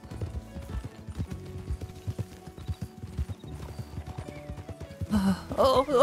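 A video game horse clip-clops at a steady walking pace under a quiet game soundscape, and a neigh rises near the end.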